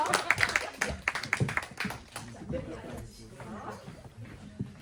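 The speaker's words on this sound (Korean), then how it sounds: "자, 박수 한번 주세요." A theatre audience gives a short burst of scattered clapping for a performer coming on stage. The applause fades within about two seconds, and a voice speaks over the room afterward.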